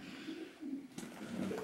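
Faint, soft cooing of pigeons drifts through the Girard Mine tunnels beneath Tombstone, Arizona, a few low murmuring calls over quiet background noise.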